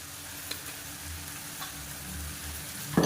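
Chicken pieces fry in hot oil with spice powder in a pan, giving a steady close sizzle while a spoon stirs and scrapes, with a sharper clatter at the end.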